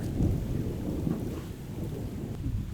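A thunderstorm with rain on a mountain during an off-road drive at Phu Khemin in Rayong: deep rolling thunder rumbles over a steady hiss of rain, continuous and fairly loud, with no voices.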